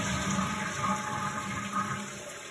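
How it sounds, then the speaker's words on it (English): A toilet flushing from a concealed cistern, water rushing and draining steadily at close range, with a constant high electrical whine running behind it and no talking. "I can flush the water into the cistern now."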